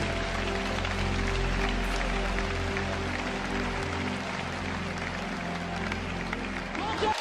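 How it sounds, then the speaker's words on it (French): A church congregation claps and cheers together in a dense, steady wash of applause that holds for several seconds over sustained background tones, with voices mixed in. "Put your hands together unto the King"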